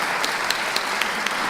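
Audience applause with steady, dense clapping at moderate distance, a few sharper claps standing out over the continuous patter, no voices on top.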